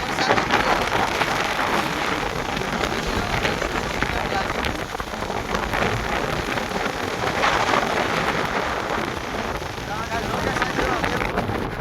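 Heavy rain pours down at Somnath in a dense, loud, unbroken roar of water striking nearby surfaces, with wind gusting through it, and it runs the full length without letup.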